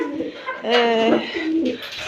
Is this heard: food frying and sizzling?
no